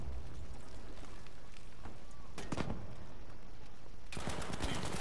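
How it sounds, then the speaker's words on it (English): Gunfire in Battlefield V, a multiplayer shooter, with bursts of sharp shots near the middle and a dense stretch of rapid fire at the end, all over a constant low rumble of battlefield noise. "I don't know where them shots came from"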